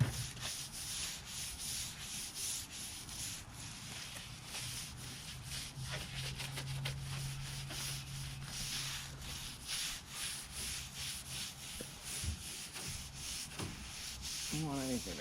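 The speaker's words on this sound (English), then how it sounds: "I'm gonna try this whisk broom brush." A whisk broom brushes the interior of a 1962 Valiant Signet 200 barn find in a steady, continuous rhythm of close scratchy strokes, with a low hum running beneath.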